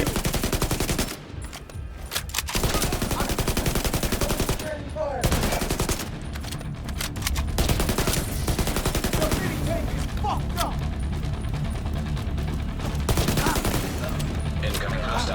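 Rapid automatic gunfire bursts in The Division 2, loud and sustained with brief gaps between volleys of machine-gun fire and scattered shots.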